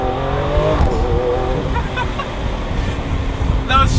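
A Lamborghini Aventador Roadster engine roars steadily on the road under wind rush, with brief shift blips breaking the drone and a voice speaking over it.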